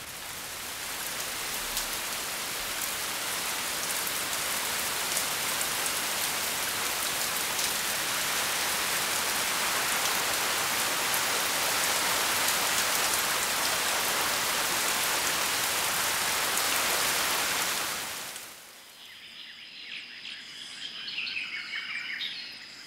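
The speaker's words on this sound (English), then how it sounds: "In mid-October, rainy season begins." Steady heavy rain pours across the Lake Tanganyika forest at the start of the rainy season, a dense continuous hiss lasting most of the stretch before stopping abruptly, leaving quieter dripping, faint bird calls and insects.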